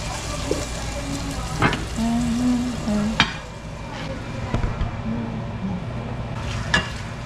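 Pork sizzling and frying in a pan while being stirred for Filipino dinuguan, with a steady crackle and occasional sharper scrapes and clinks of a utensil against the pan.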